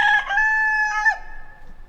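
A homestead rooster crows once, loud and close, with a bright sustained call that rises and then trails off into quieter clucking.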